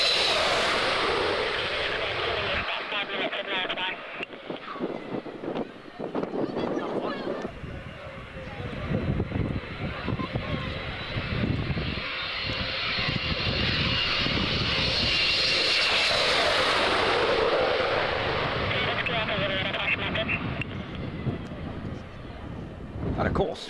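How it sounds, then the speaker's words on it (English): MiG-29 and MiG-23 jet fighters roar overhead at a D-Day 50th anniversary flypast, a loud, sustained, broadband engine rumble that swells and lingers for the whole stretch with a rushing high-pitched whine near the middle. "So we just saw MiG-29, MiG-23 right now."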